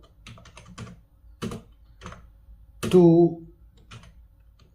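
Keys clack on a computer keyboard as a letter is typed, with scattered taps and short bursts of keystrokes close by, and a voice speaking briefly over them.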